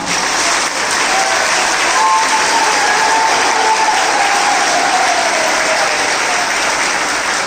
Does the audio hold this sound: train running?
no